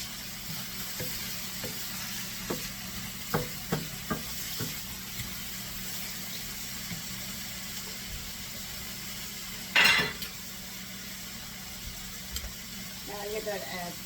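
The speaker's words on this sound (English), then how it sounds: "Stir it around." A mixture is stirred in a pan on the stove for a salmon leek pie after hot sauce goes in, with soft scraping and occasional light taps of the utensil over a low steady hiss, plus one louder clatter near the end.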